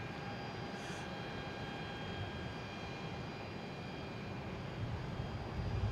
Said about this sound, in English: Is JetBlue heading to Denver, an A320.